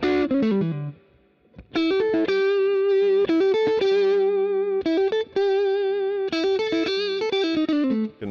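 Fender Custom Shop Masterbuilt Eric Clapton Stratocaster playing chords and arpeggiated notes on blended pickup positions, a clean, slightly chorused tone, loud and sustained, after a brief pause near the start.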